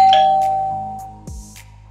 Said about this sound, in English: pushing the doorbell button should now cause the bell to ring.